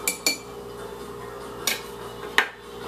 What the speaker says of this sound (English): Go ahead and stir this up with my knife